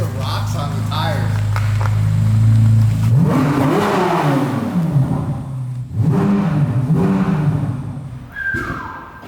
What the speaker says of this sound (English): I just had to do an insane exhaust revving video